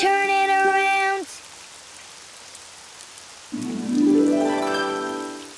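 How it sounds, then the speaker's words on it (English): Steady hiss of rain falling outside in a children's cartoon, filling a quiet gap between bursts of tonal voicing or music at the start and end. "It's raining outside."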